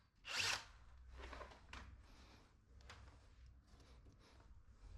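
Drilling a hole in a wall to mount a shelf, with a loud burst of the drill at the start followed by quieter intermittent drilling and scraping sounds.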